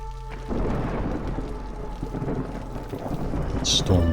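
A thunderstorm rolls through in the video game Against the Storm: steady rain hiss under low rumbling thunder, fairly loud and continuous, with a brighter crack near the end.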